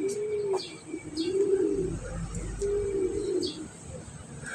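Racing pigeons coo in low, repeated phrases at the loft as birds come in from a race, with brief chirps and faint rustling around them, near and moderately loud.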